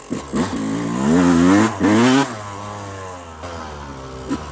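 A supermoto motorcycle rolling downhill on an enduro-style ride, its engine note swelling and rising in pitch through a loud rev, then easing back to a lower steady drone with a brief blip near the end.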